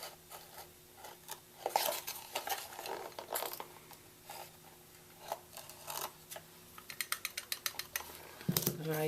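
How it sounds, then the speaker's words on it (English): Sugar and baking soda stirred together in a bowl for buttermilk pancakes: faint, scattered scraping and clinking of a utensil, ending in a rapid run of light taps. "I usually stir that together to mix it"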